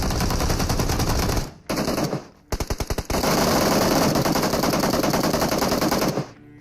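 Rapid automatic gunfire erupts during a fight in the mobile shooter BGMI, with sustained loud bursts, a short gap, a run of distinct single cracks, then another long dense volley that cuts off near the end.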